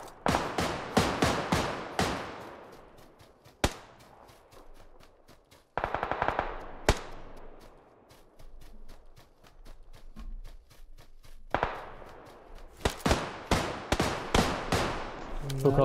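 Gunfire in PUBG Lite, with rapid bursts of loud automatic shots at the start and end and scattered single shots in between, over quieter game ambience.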